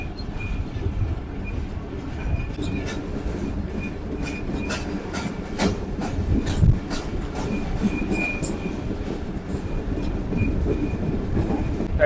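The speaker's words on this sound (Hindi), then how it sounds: "टंडू आदम रेलवे स्टेशन गुजर चुका है और गाड़ी ने रफ्तार बढ़ानी शुरू कर दी है।" The Karakoram Express train in Pakistan gathering speed on the rails just past Tando Adam station, with a steady rumble and repeated clickety-clack wheel beats heard from inside the coach, loud and with no talk.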